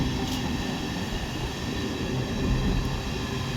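A train passes through Oxford station, a steady loud rumble of wheels and rolling stock with rail noise holding level throughout, no voices.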